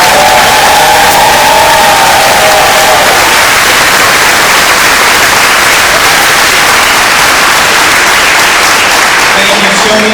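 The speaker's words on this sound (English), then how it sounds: "Please give our readers a round of applause" A crowd at a public Constitution reading event in West Palm Beach breaks into loud applause and cheering, a dense, roaring wall of clapping with some whoops, very close and loud for the whole stretch.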